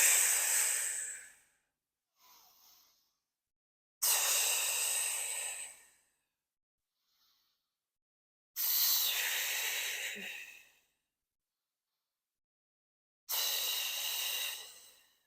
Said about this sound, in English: Inhale one half, exhale the other